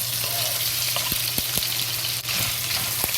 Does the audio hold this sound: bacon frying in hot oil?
yes